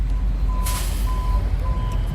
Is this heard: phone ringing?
no